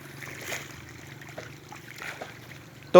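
Water flows in a faint, steady trickle into a catfish farming pond outdoors, ending in a sudden loud thump.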